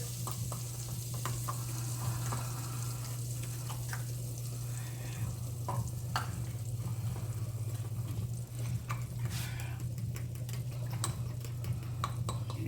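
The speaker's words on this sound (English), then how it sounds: "Got my pan getting hot with my butter." Butter heats and sizzles in a hot pan with a steady close crackle over a constant low hum, with occasional sharper pops and light clinks now and then.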